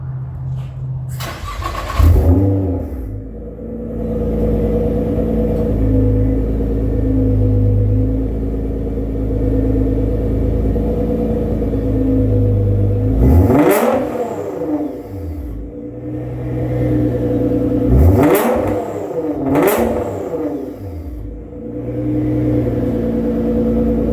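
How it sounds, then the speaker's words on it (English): Nissan GT-R engine idling with a deep steady rumble, then several sharp revs that climb and fall back, including a pair in quick succession near the end, loud and close with no talking. "Guys, get a chance to hear the GTR."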